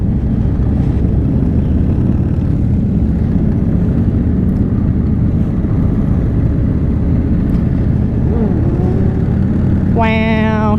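Motorcycles rumble loudly and continuously at the 40th annual Amarillo Toy Run, a Harley event, as a sport bike rider pulls a wheelie amid wind buffeting, with a short rising tone near the end.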